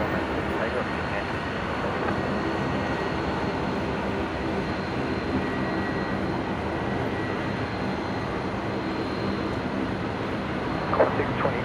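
A Delta jet taking off from Brisbane airport makes a steady, broad roar that holds an even level throughout, with a brief louder burst near the end.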